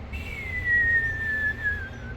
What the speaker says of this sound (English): I do a short whistle, lie down